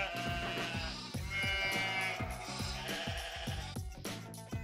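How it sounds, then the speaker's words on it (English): A black baby lamb beside its mother gives a series of wavering, high bleats, loud and close, over a steady rhythmic pulse in the background. "The black baby lamb is learning how to walk."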